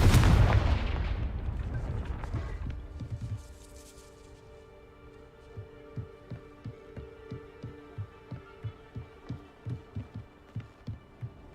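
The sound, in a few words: Confringo blasting spell cast in the video game Hogwarts Legacy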